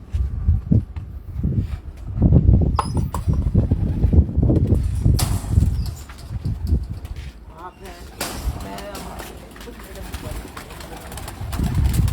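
Rooftop pigeons coo in soft repeated low bursts close by, mixed with wing flaps, wind and people talking over them.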